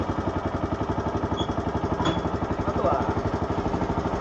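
The engine of a motorised transport cart idles with a rapid, steady chugging pulse close by. A short word is spoken briefly over it.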